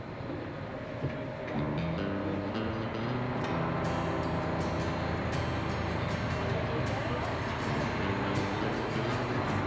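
A mountain cog railway train on a steep grade, heard as a steady loud rumble and mechanical drone with faint clanking, continuous throughout, with talk faintly under the noise.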